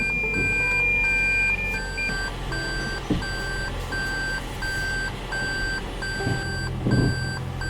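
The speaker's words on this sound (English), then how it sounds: "my new car beeps constantly trying to get out of here because it's so tight" A new car's parking sensors beep steadily in a regular pulsing pattern while it maneuvers out of a tight parking spot, with low engine and road rumble beneath and a few soft knocks.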